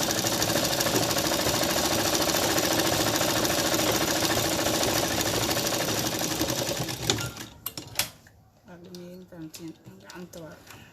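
A sewing machine stitches cloth with a loud, fast, steady mechanical whir and clatter that runs for about seven seconds and then stops. A few quieter handling knocks follow, and a voice speaks near the end.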